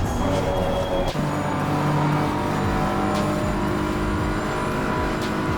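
Race car engine at full throttle in Assetto Corsa Competizione on the Nurburgring, a loud close wail holding steady with quick gear-change blips, continuous and without talking.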